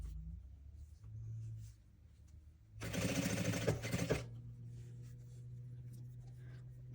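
Sewing machine running in one steady burst of fast stitching for about a second and a half, sewing stretchy white Dubai velour for a fox plush toy's nose, with quiet room hum before and after.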